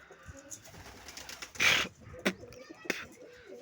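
Pet pigeons coo in a few soft, low bursts close by, with a person talking in between the calls.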